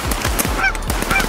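Geese honk repeatedly and loudly as they fly in during a goose hunt, a dense flock of overlapping calls close by, with no talk.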